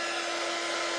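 A dryer blowing steadily to dry a freshly made craft piece: a loud, continuous close-up whoosh with no change in level and no talk.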